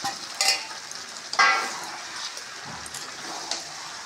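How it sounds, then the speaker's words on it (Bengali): Shrimp with mixed vegetables and boiled drumstick stalks being stirred in a pan over a high gas flame, a steady close sizzle with two louder scraping bursts of the spatula early on and softer stirring after. "এখন আমি গ্যাসের ফ্লেমটা হাই করে দিয়েছি, এভাবে নাড়তে থাকবো"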